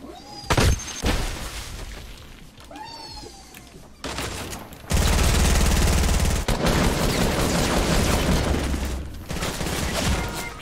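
Sustained P90 submachine gun fire in a video game erupts in long, loud automatic bursts after a few scattered earlier shots, dominating the latter half of the clip with no talk over it.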